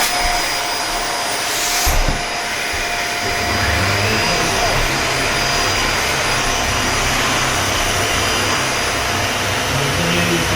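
A Dyson Ball vacuum cleaner runs standing upright with a steady, loud whine and airflow roar, after a brief click as it switches on; the motor hum holds evenly throughout, with no talk over it.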